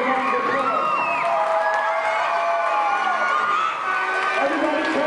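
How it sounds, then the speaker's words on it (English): A crowd at an independent wrestling show cheers and shouts continuously, loud and dense voices overlapping with whoops and chatter throughout. "Give yourselves a round of applause."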